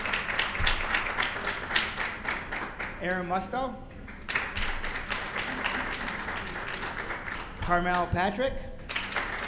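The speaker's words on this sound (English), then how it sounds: "Let's give her a round of applause." Scattered applause for women honorees at an awards presentation, a moderate patter of clapping running under a man announcing names at a microphone, swelling slightly between his words.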